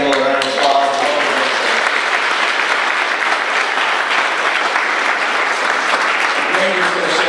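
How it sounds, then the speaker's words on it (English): An audience at an awards ceremony claps for an honoree in dense, sustained applause that fills the room, with a voice heard briefly at the very start. "So give Campbell a round of applause"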